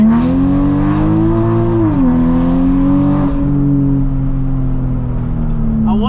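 A Toyota Supra engine revs under throttle as a loud, close, sustained drone that rises, dips briefly and holds steady, with faint voices in the background.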